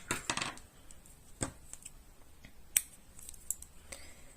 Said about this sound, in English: Then I'm going to chain one and cut my yarn.